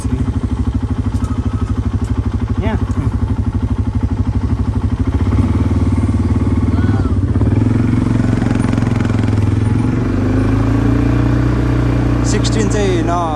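ATV engine droning steadily at mid pitch throughout a ride, loud and close, with the pitch rising and shifting partway through and rattling clatter on top, while people talk over it.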